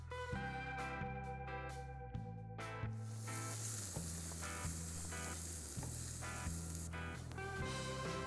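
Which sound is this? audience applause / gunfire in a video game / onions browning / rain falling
onions browning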